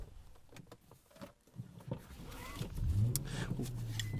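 An Infiniti M45 with a V8 engine starts moving on a drive, a low engine rumble swelling up close in the second half after some handling clicks and knocks.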